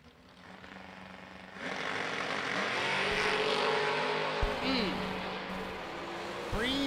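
A Chevy II and a 1969 Camaro roar off the line at a drag race, engines surging loud and sustained over crowd and announcer talk, with a sharp thump and rising revs near the end.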